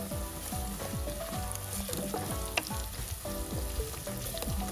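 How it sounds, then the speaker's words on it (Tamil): Mustard seeds, fennel and fenugreek fry in hot oil for a crab curry, a steady close sizzle with busy seed crackle and several louder pops scattered throughout, with no talking. "இப்போ கடுகு, பெருஞ்சீரகம், வெந்தயம் போட்டாச்சு"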